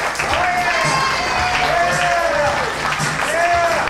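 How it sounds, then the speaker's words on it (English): A wedding crowd applauds steadily with cheering and scattered whoops, a continuous wash of clapping while a voice speaks over it. "a nice big round of applause for our usher"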